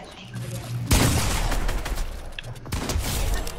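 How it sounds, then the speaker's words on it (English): Dense bursts of automatic gunfire from a shooter video game rattle out loud and close, breaking off briefly and then resuming. "Hey, don't be shooting at me, bro."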